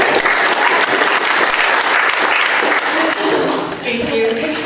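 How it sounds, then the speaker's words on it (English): Audience applause at a school board meeting, a steady, dense wash of clapping that holds loud throughout, with a faint murmur of voices mixed in. "Can we get an applause?"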